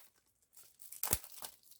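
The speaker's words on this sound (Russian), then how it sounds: "я прям эту пломбу вместе с пакетом оторвал" Plastic wrap and a seal torn off a boxed Xbox game package, with a sharp ripping burst near the middle amid crinkling plastic, close and fairly loud, no voice.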